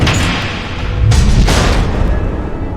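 Missiles explode in Batman: The Telltale Series, with loud booming blasts, a heavy one near the start and two more bursts about a second apart, each followed by a rumbling low decay.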